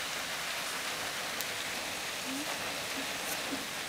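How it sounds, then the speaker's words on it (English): Steady rain falling outside on a cool, stormy day, a continuous hiss of drops spread evenly throughout, moderately loud with faint scattered patters. "Bit rainy today, so."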